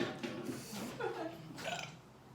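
Single drawn-out burp at a casual meal, quiet and close, with brief voiced chuckling sounds around it.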